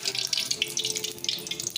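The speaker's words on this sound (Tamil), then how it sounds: "எண்ணெய் கொஞ்சம் கூடவே ஊற்றிக்கலாம்." Cooking oil pours into a pan for a crab fry, making a brief, close, bubbling liquid stream with a fluttering, uneven texture.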